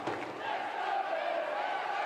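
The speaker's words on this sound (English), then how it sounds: "And once again, that's woken up the home crowd." Home crowd at a women's football match between Aston Villa and Tottenham Hotspur, cheering and roaring in a steady, dense wash that holds for the whole stretch, loud and sustained with no single voice standing out.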